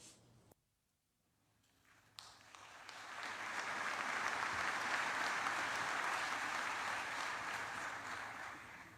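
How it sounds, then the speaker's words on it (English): An audience applauding at a Memorial Day ceremony for fallen service members after the band and chorus, starting after a brief quiet and swelling into a steady, dense wash of clapping. "let's give the band and the chorus another round of applause."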